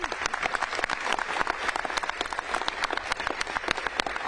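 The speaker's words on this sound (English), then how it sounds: "Let's give her a big round of applause" An audience at a Los Angeles Convention Center press conference applauds Mayor Bass, with dense, steady clapping from many hands filling the room at a fairly even level throughout.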